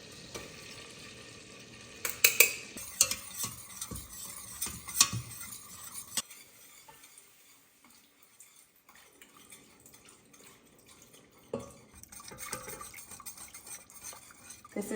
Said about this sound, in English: I'm just gonna make a roux here and then add my milk